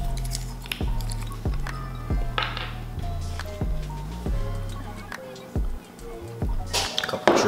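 Chili lime Cholula hot sauce dripping onto homemade chicken tacos, a series of soft, regular wet drips close to the microphone.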